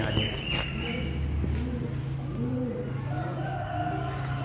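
Chickens and a rooster shut inside a cage, with crowing and clucking rising over a steady low hum of background noise.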